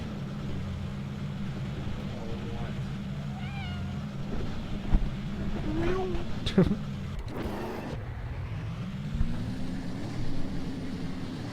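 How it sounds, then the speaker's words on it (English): A cat meows a few times close by, short rising calls heard over the steady drone of a racing game's engine noise, with a voice speaking in between. "What do you want, cat?"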